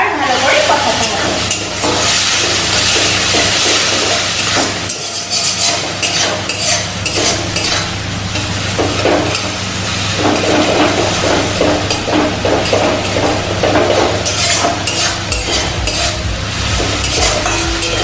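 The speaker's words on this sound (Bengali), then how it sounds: "এবার ভালো করে এগুলোকে কষাতে হবে।" Spices for a fish and eggplant curry stir-fried in a pan with a splash of water: a loud, continuous sizzle with steady scraping and stirring strokes of a utensil against the pan, close up and without talk.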